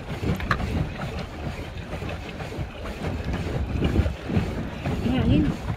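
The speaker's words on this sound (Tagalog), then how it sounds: "Hangin." Wind gusting outdoors by shallow water where a boat waits, a steady rushing roar swelling and easing throughout, with distant voices talking faintly in the background.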